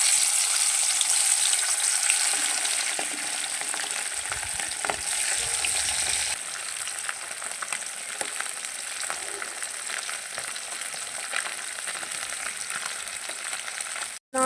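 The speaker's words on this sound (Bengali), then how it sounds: "তেলটা গরম হয়ে গেছে, এবার এর মধ্যে মাছগুলো ছেড়ে দেবো এক এক করে।" Fish pieces fry in hot mustard oil in a kadai, the oil already seasoned with five-spice, turmeric and chilli powder. A loud, dense sizzle and crackle runs continuously up close, with brief spatters.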